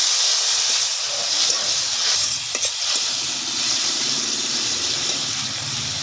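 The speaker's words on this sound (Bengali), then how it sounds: "মশলাটা ভালো করে কষিয়ে নেব।" Spices sizzle and fry in hot oil for a Bengali gerir jhal, a snail curry, with a loud, steady hiss and crackle close by and occasional stirring scrapes.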